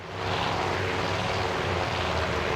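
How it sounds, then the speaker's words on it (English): WWII propeller aircraft engines in a carrier battle video game, a Wildcat fighter and an incoming Japanese strike, a loud steady droning roar that swells in at the start and holds without speech. "Here's the first Japanese strike coming at us. And there's a Wildcat attempting to defend us."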